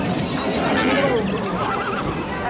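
Horses whinny and neigh amid a busy horse round-up where experienced herders guide and separate the animals into pens, with a continuous crowd din and a few clopping hooves throughout.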